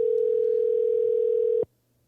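A single steady electronic tone over a Bluetooth phone call, holding for about a second and a half before cutting off abruptly into near silence.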